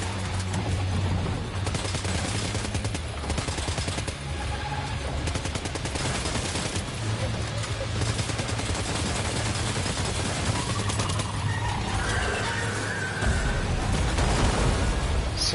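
Continuous, loud gunfire from the Death Stranding 2 video game: dense automatic bursts and shots run through the whole stretch over a low droning hum, with brief explosive booms near the end.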